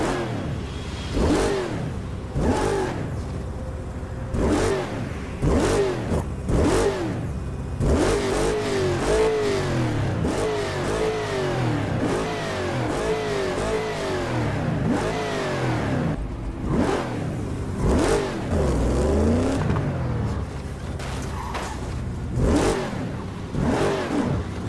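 A car engine in the video game Burnout Paradise revs up and down repeatedly with rising and falling pitch sweeps, loud and close, gear-shift-like surges throughout with no voices.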